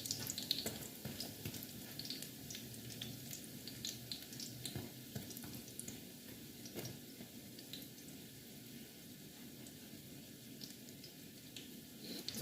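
Dumplings frying in hot oil in a heat-holding pot, giving a soft, continuous crackling sizzle with scattered pops, fairly quiet and steady without talk.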